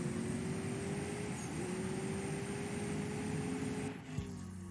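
A Mercedes-AMG S 63 Coupe engine in the racing game CSR2 holds a loud, steady drone with a rising pitch under acceleration, then a brief dip and gear-shift change near the end, with no voices.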